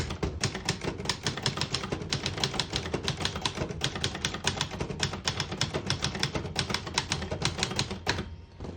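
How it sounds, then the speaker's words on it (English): A 1961 Brother Valiant portable typewriter typing a line: a rapid, steady run of crisp, close, mechanical key strikes with clacking typebars, ending in a short pause and a softer final clunk. "I'll type a sentence on the next line."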